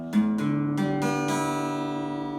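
Guitar strings plucked one after another in tune, five notes entering in quick succession and ringing together into a sustained, blended chord, close and clear with no talking.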